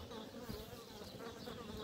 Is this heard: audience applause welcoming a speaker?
no